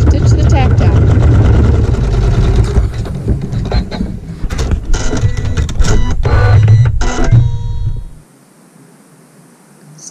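Sewing machine stitches a tack down on quilt fabric, a rapid, loud mechanical whirring chatter with brief pauses, close up, then stopping abruptly near the end, leaving quiet room tone.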